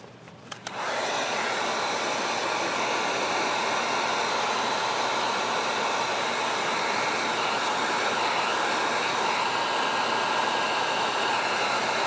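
A heat gun blows steadily while heating smoked lens tint film on a Bronco Sport light, starting abruptly after a brief click and holding an even, loud hiss close by for the rest of the clip.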